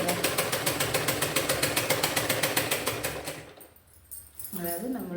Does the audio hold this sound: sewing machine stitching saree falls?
yes